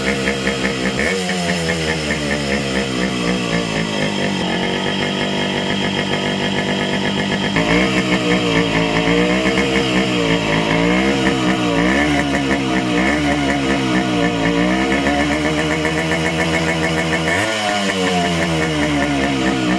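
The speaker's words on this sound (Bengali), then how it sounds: "তো এখন কিন্তু ধীরে ধীরে ইঞ্জিনের সাউন্ডটা ভালো হয়ে যাবে।" Yamaha RX motorcycle two-stroke engine running just after starting during a mobil pump repair, a buzzy, raspy idle with revving swells, loud and close throughout.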